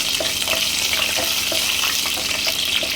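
Whole garam masala and a bay leaf sautéing in hot oil give a steady, loud sizzle with light, regular spoon-stirring clicks over it, and no voices.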